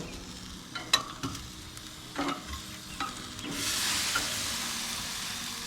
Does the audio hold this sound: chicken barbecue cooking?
yes